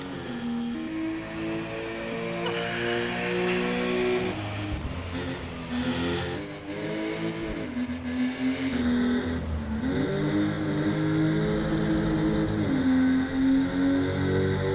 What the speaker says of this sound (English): So we're on board with Brandon De Santos. He'll be coming up through turn number 12